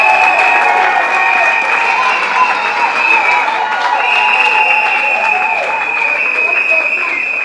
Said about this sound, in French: Est-ce qu'on peut acclamer pour ce Seigneur?